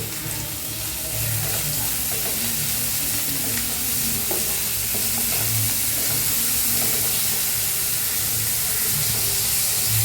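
Mutton spleen fry cooking with onions, ginger and garlic in a hot pan; a loud, dense, unbroken sizzle and hiss fills the whole stretch, with faint stirring beneath and no voices.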